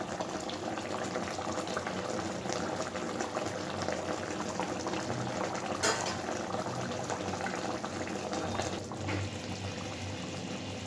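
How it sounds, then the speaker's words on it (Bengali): Oil-rich Bengali koi fish curry bubbling steadily in a pan over a lowered gas flame, a continuous close, even simmering hiss and burble with no talk. "আরও মিনিট দুয়েক আমি এটাকে ফুটিয়ে নেব আমি এটা আরেকটু শুকনো করবো"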